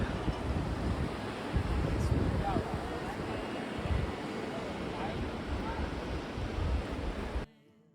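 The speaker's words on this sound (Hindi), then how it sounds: "इधर ज़ांस्कार नदी बह रही है।" The Zanskar river flows nearby in a steady, broadband rush of water mixed with wind buffeting the microphone, continuous and fairly loud until it cuts off abruptly near the end.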